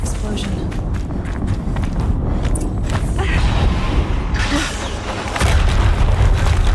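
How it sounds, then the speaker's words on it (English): Booming explosions and mechanical clatter fill a battle in Horizon Zero Dawn, with heavy dull blasts over dense running footsteps and machinery, loud and close, swelling near the end. "Another explosion."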